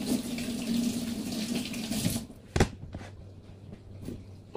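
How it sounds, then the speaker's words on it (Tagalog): Onions are rinsed under a running kitchen tap, a loud splashing stream for about two seconds, then the water stops, leaving a few knocks and clunks at the sink. "hugasan natin yung mga sibuyas"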